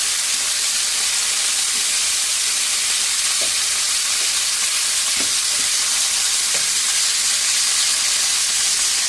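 Meat pieces for Hungarian paprikash fry and brown in a hot pan with a steady, loud, dense sizzle and a few soft pops, continuous throughout with no talk.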